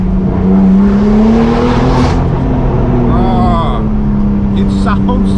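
A BMW M4 G82 with a downpipe and straight-piped titanium exhaust drones loudly and steadily, the engine pitch rising and falling through revs, with a voice talking over part of it.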